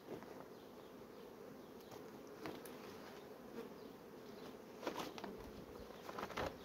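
A honeybee swarm from a colony in swarming fever hums steadily and softly, a dense continuous buzz with occasional louder passes of bees flying near.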